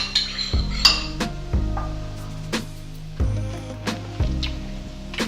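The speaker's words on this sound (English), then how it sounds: "Adding some salt directly to the lime juice. Stir that up and check for flavor." Salt stirred into lime juice in a bowl, a spoon tapping and clinking against the rim in a series of bright, ringing knocks with short scrapes between them, close and alone.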